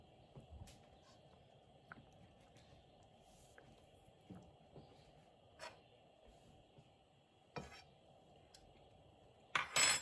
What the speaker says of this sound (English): Stir it here and there.